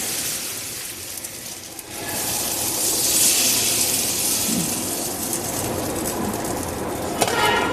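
Dosa batter for a cauliflower masala dosa sizzles on a hot pan, a soft hiss swelling after a couple of seconds into a steady, close, broad sizzle that runs unbroken.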